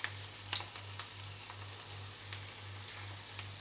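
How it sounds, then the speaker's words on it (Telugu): Ivy gourd pakoda batter fries in hot oil with a faint, steady bubbling sizzle and a pulsing low hum underneath, quiet and without talk. "ఆయిల్ బాగా హీట్ అయిన తర్వాత వేసుకోవాలి."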